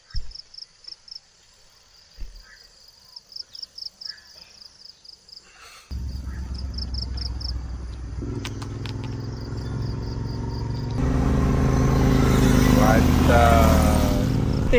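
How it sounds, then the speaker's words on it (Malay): A motorcycle travels a road near Hulu Langat. Insects chirp in quiet surroundings at first, then a continuous engine drone cuts in and swells louder toward the end as the machine closes in. "Kena kejar guys. Ada motor belakang kita kan."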